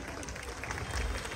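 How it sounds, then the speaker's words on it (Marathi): An audience claps at a live comedy performance at a neighbourhood event, a brief burst of crowd applause mixed with murmuring voices. "जर तुम्हाला आवडलं तर नक्की टाळ्या वाजवा"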